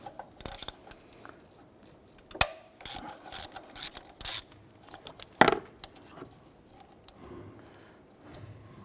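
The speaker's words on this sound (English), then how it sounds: "We're going to remove this nut here using our 13mm socket." A 13mm socket working a nut on the alternator of a 1999–2004 Jeep Grand Cherokee 4.7L V8, giving close, intermittent metallic clicks, scrapes and rasping ratchet sounds separated by quiet pauses.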